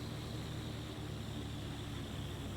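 Aircraft engines drone in the FlightGear flight simulator during a group flight over the Caucasus, a faint, steady propeller hum with no variation.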